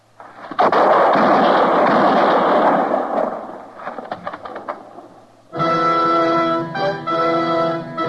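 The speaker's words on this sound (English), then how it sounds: "I heard the shots, Matt." Gunshots in an old-time Western radio drama: a loud, booming blast that rings out and decays, then some scattered smaller cracks. A sustained tonal musical sting follows.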